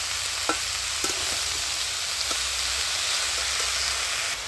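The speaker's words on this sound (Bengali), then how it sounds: "তো ভালো করে নেড়ে ধরে আমি এবারে ঢাকা দিয়ে দিলাম" Thankuni greens cooking without spices in a pan, stirred with a utensil: steady close sizzling with several sharp scrapes and taps against the pan.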